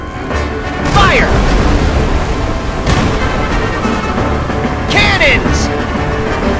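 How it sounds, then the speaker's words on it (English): Ship cannons fire in Kingdom Hearts 3, two heavy booming blasts about four seconds apart, each with a sharp crack and rumbling tail, loud over a busy game soundscape. "Cannons!"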